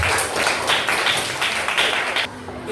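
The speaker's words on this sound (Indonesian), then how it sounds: "Tepuk tangannya yang meriah." An audience claps together at an Indonesian religious lecture on halal and haram, a steady, fairly loud patter of many hands that thins out near the end.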